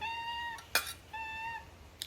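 A house cat meows twice in long, clear, tonal cries while its owner eats a homemade fish puttu, with a brief sharp clatter between the calls and a quiet room behind.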